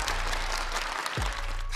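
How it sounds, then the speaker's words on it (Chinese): An indoor crowd applauds for Chairman Xi, a dense unbroken wash of many hands clapping at full volume for the whole stretch. "再给我们的习主席掌声鼓励"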